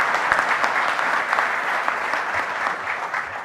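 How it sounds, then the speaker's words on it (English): A round of applause from the crowd at the Diercks Hall opening ceremony at MSOE for plaza donors, sustained and even with individual claps popping through. "Let's give them a round of applause as well."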